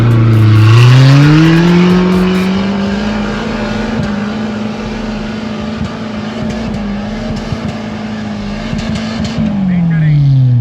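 Engine of an off-road vehicle, compared against a 2020 Mahindra Thar and a Maruti Gypsy, straining while stuck, with a loud low drone that swells, dips and stutters unevenly throughout, under people talking.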